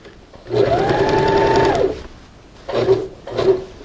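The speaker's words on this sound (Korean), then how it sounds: "이렇게 지나쳐 오면 지금 바이어스 1차 박음질은 끝이 나겠습니다." Sewing machine stitching bias binding onto a patchwork bath mat: one longer whirring run of rapid stitches, then two short bursts after a pause, close and loud.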